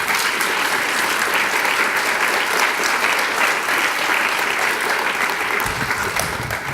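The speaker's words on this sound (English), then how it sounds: "why don't you give them a round of applause?" Audience applause fills an awards ceremony for a school library, dense and steady clapping from a large crowd that holds at a constant level throughout.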